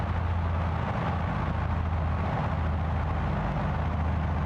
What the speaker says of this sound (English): I'm gonna bring that throttle back even more